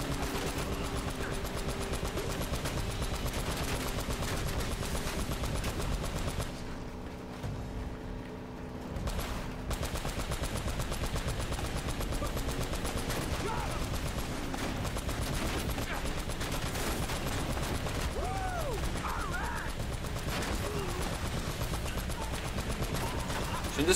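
Dense, continuous gunfire with bursts of explosions from the video game Uncharted: Drake's Fortune, set in a forest, loud throughout with a brief dip midway, under occasional talk.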